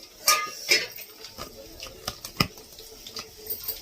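Metal utensils clink and scrape against a pan while tempering eggplant and potato curry, a few sharp knocks, with faint kitchen clatter and a brief sizzle-like hiss between them.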